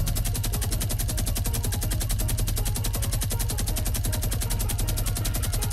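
Minigun firing in Fortnite, a continuous rapid-fire stream of evenly spaced shots that holds steady and loud for the full length without pause, with no talking over it.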